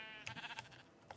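Sheep bleating in Minecraft, a few short nasal bleats in quick succession followed by one more brief bleat, fairly faint and alone.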